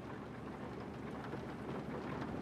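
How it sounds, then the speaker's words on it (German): Rain falls in Euro Truck Simulator 2 as a dense, even hiss with a low rumble beneath, steady and fairly soft throughout, with no voices. "jetzt regnet es wieder schön"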